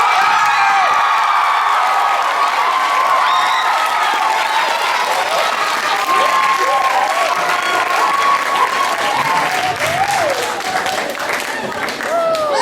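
A school audience at a staff talent show cheers, screams and applauds without pause, a loud, dense roar of young voices and clapping with shrill whoops and shrieks standing out throughout.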